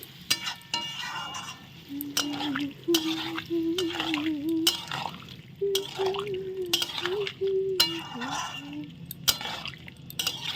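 Paneer is stirred and fried in a pan, with frequent spatula clicks and scrapes over a light sizzle while a voice hums or murmurs a wavering tune alongside.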